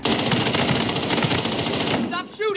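Machine gun fire in the video game Call of Duty on Rebirth Island: a loud, sustained rapid-fire burst that cuts off near the end, followed by a short voice.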